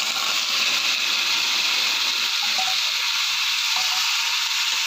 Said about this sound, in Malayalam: ഉള്ളി വഴന്ന് വന്നതിൻ്റെ അകത്തേക്ക് ചിക്കൻ ഇട്ട് നന്നായി മിക്സ് ചെയ്യാം